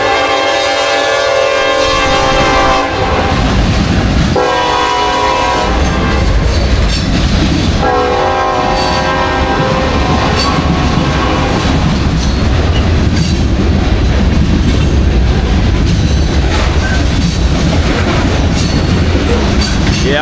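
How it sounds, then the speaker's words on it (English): A long freight train rolls past close by in Hope, Arkansas, with loud continuous rumbling and clattering wheels, sustained horn blasts early on, and occasional squealing, unbroken for the whole stretch. "I'm so glad I was able to capture the freight train."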